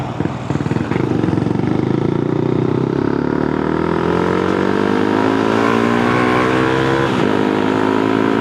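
A freshly tuned Honda Grom motorcycle engine revs up and pulls through the gears while riding, loud and close, its pitch climbing steadily with brief shifts and no talking.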